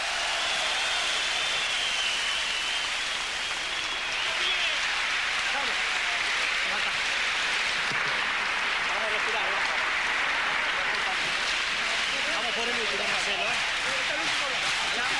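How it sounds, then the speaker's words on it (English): A boxing crowd at the Kobozev vs Dominguez fight applauds and cheers in a dense, steady roar, with a commentator talking over it throughout. "And the crowd absolutely loving it."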